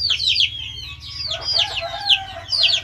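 Chickens cluck and chatter close by in a rural yard, with repeated sharp bursts of fowl calls over a low background rumble and no talk.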